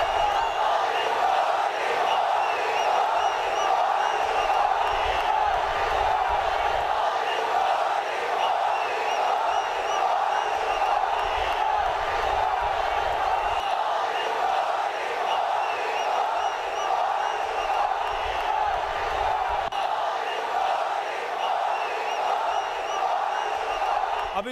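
A large crowd gathers at a road show for Prime Minister Narendra Modi in Andhra Pradesh, a steady dense roar of many voices shouting and cheering at a distance without pause.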